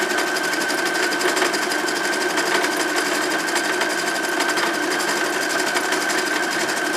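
Sewing machine stitching printed pad fabric, a loud steady rapid mechanical hum and clatter running without a break, close up with no speech.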